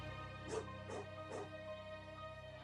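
A small dog gives three short, muffled barks close by, each evenly spaced, over a low steady hum inside a car.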